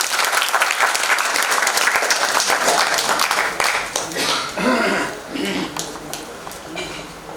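Loud audience applause fills a theatre during a drama event, dense clapping sustained throughout and fading slightly toward the end, with a voice speaking over it.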